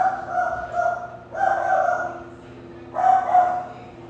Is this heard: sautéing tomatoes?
no